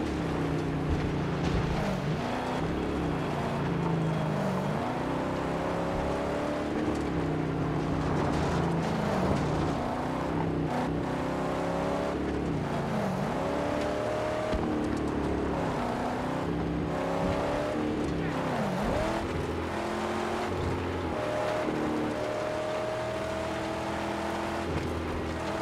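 A car engine drones continuously in the Mad Max video game, with repeated swoops as the revs climb and drop during driving, steady and fairly loud throughout.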